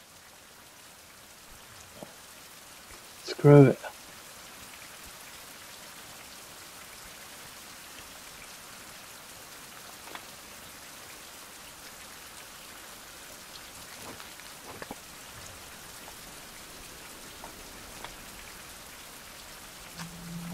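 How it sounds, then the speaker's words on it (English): Rain falls in an outdoor survival setting as a steady, soft hiss of drops throughout, with one brief loud knock early on and a short muttered remark. "bloody rain?"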